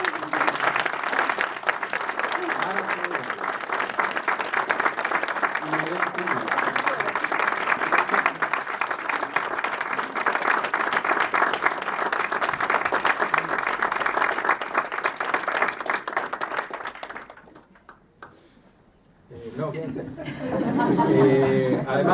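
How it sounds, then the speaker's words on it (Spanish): Sustained applause from the audience at a doctoral thesis defense in psychology, steady clapping filling the room for around seventeen seconds before fading to near silence, then a voice resumes speaking. "acá voy a pedir otro aplauso"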